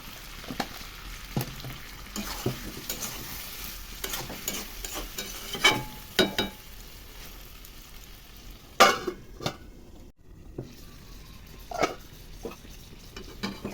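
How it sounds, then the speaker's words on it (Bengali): Chicken sizzles and fries with spices in a pan for a kasha dish, with a steady low crackle broken by frequent scraping and clanking strokes of a spatula as it is stirred. No one talks. "একসঙ্গে কষবো মশলার সাথে"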